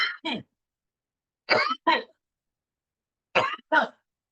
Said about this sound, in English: I'm really sorry for coughing.